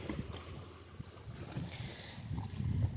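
Wake from a passing boat laps against a small wooden country boat on the Alappuzha backwaters, soft low sloshing and knocking of water under faint wind, growing a little stronger toward the end.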